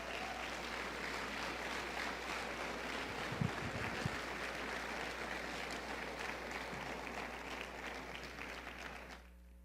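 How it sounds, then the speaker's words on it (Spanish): Steady, dense applause from a church congregation fills the room for nearly ten seconds at a moderate, even level before cutting off abruptly at the end. "Dale un aplauso al Rey de Reyes."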